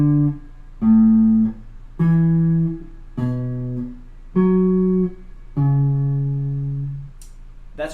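Single guitar notes of a major sharp scale ring out one after another with clear attack and sustain, six plucked tones stepping in circle of fifths root movement, played alone and close with no talk.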